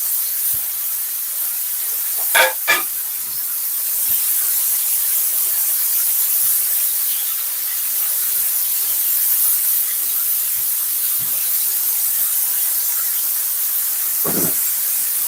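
Beef and onion stir-fry sizzles steadily in a hot pan, a constant broad hiss with a couple of brief sharper pops near the start and a louder crackle toward the end, with no talking.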